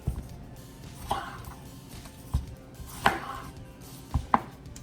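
Knife chopping Roma tomatoes into rough cubes on a cutting board while cooking beef seekh kebab karahi: a sparse series of sharp, close taps, some single and some in quick pairs, with quiet room sound between.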